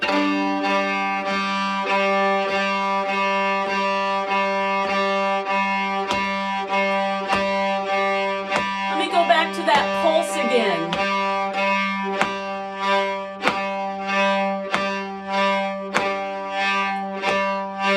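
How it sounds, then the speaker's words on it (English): Bowed fiddle strokes sound with a soft, repeated saw-like rhythm, close and steady, with a brief sliding passage partway through. "it is kind of like a soft saw stroke"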